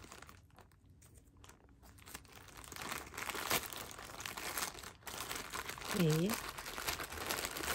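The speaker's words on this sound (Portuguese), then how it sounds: "Então vamos abrir o pacotinho, né?" A small package holding phone cases for a Galaxy S22 Ultra is opened, with close crinkling and tearing of the plastic packaging as someone speaks briefly.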